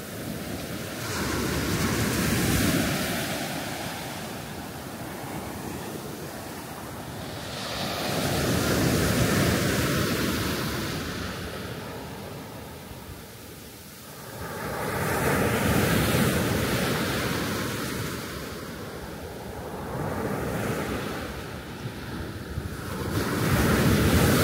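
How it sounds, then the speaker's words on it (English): Ocean waves roll onto an Outer Banks beach in repeated surges a few seconds apart, with steady wind buffeting the microphone throughout and no voices. "And we made it to the ocean."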